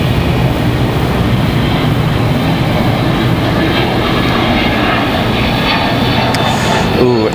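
An airliner passes at Raleigh-Durham International Airport, its engines giving a loud, steady roar that holds throughout at close range, with a faint voice in the background.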